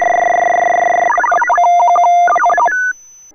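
Digital data tones sent by a Python script over UHF radio, dial-up style: a steady two-tone preamble for about a second, then rapid warbling tone bursts ending in a brief beep, loud and clean.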